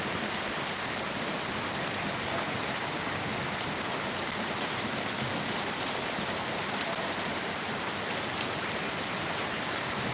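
Steady heavy rain hisses continuously in Palamaneru, blending with the rush of flowing water, dense and even with no pauses.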